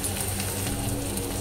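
Chopped capsicum and onion frying in hot oil in a pan, a steady close hiss and crackle of sizzling that holds without a break.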